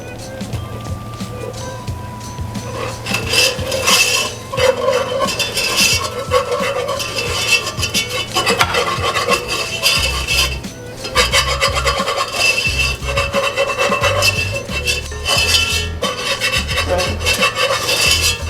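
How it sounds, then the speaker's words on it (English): Flour being stirred into melted fat in a pan for a stiff roux to thicken gravy, a persistent scraping, rasping rub of the utensil against the pan with faint sizzle, under intermittent talk. "I am going to add my flour and make a little roux to thicken this gravy up"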